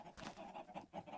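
Faint Minecraft chickens clucking in short, soft repeated bursts, quiet and close, with no talk over them.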